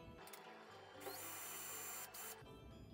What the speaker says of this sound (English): I'm going to go ahead and drill into there